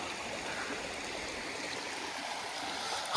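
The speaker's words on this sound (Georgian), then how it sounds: "ეს პატარა მდინარე არის" A small river flows steadily near an abandoned village in Kareli, Georgia, a constant soft rushing and babbling of water that stays even and gentle throughout, with no voices.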